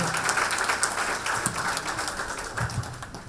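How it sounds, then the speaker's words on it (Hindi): A crowd at a Family Fun Club gathering bursts into loud, sustained clapping that rolls on evenly with scattered sharper claps and almost no speech. "तो एक बार जबरदस्त तालियां आप अपने बारे में बजाएं सर"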